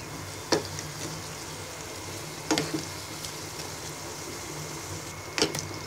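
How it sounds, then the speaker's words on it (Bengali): Aloo puri, a potato-stuffed fried bread, frying in hot oil and being turned side to side, giving a soft, steady sizzle with three sharp clinks or taps spread across it. No one speaks. "এবার এপিঠ ওপিঠ ভেজে নিব।"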